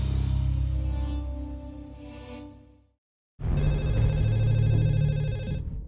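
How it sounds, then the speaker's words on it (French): A telephone rings in two bursts separated by a short silence, loud and close with a steady electronic tone and no voices. "Je réponds au téléphone"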